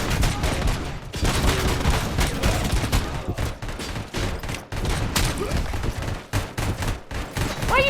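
Gunfire in RoboCop: Rogue City, a dense, loud barrage of rapid automatic shots and bursts that runs almost without pause for eight seconds, thick and close, with only brief gaps between volleys.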